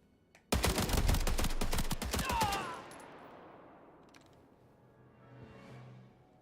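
Rapid burst of gunfire in the video game Indiana Jones and the Great Circle, a loud fusillade of closely spaced shots lasting about two seconds, then a fading echo and low ambience.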